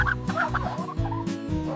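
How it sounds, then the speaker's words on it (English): A domestic hen clucking in a quick run of short, throaty, fairly close calls with brief pauses between bursts, heard alone without talking. "This is a hen. She lays eggs."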